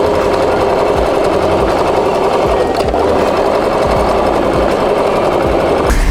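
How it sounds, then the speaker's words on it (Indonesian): A sewing machine stitches the side seam of a gathered skirt, running in a fast, steady mechanical chatter that stays loud and close, with a brief pause and restart near the end. "Nah, ini kita jahit di bagian sisi ya, dengan kampo yang telah kita buat"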